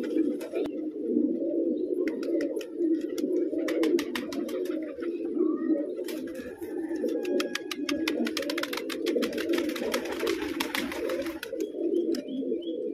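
Pigeons coo in a steady low rolling murmur close by, continuous throughout, with scattered clicks and fluttering sounds over it and no talk.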